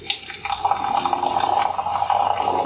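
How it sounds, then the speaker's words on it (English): Coca-Cola Energy drink is poured into a cup, a steady close splashing, fizzing stream of liquid lasting a few seconds. "This is not how you pour drinks."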